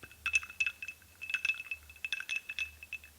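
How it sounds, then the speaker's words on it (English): Ice cubes clinking against the sides of a glass as someone takes a drink, a quiet run of light clicks and rattles in scattered bursts. "Can you hear the ASMR ice cubes?"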